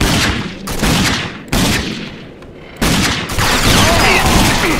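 Dense video-game gunfire from a shooter, loud sustained bursts and rattling volleys that cut off briefly and resume, filling the whole stretch at close range.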